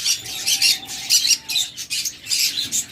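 A DNA-sexed breeding pair of pet birds squawking in bursts, harsh calls repeating quickly and close together, with no voices over them.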